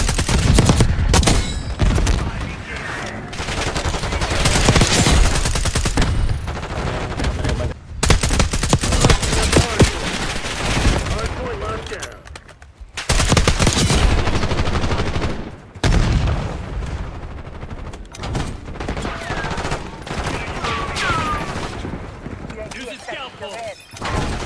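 AK rifle fire in the video game Call of Duty Black Ops 6, loud dense bursts of automatic shots and crackling explosions running almost without pause, with short drops between volleys.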